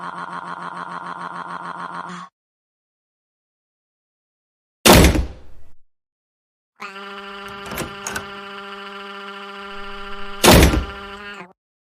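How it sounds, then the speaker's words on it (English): Two loud door slams land as sharp isolated bangs, separated by stretches of sustained tonal music and silence in a cartoon scene. "Do not slam doors, Joseph."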